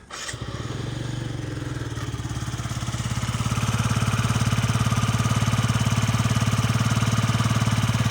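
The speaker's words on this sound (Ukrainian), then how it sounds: "Двигунчик працює ідеально." A Yamaha Jog SA36J scooter's small engine idles close by, a steady, rapid putter that settles into an even, slightly louder rhythm after starting up, with no talking over it.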